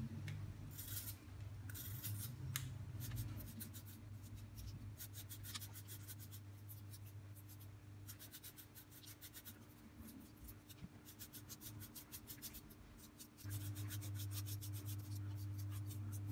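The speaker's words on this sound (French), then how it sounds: "Pour commencer, on va éplucher les pommes de terre." Potatoes being peeled by hand for a gratin dauphinois, a steady close scraping and rasping of the peeler over the skins, continuous for the whole stretch over a low kitchen hum, with no talk.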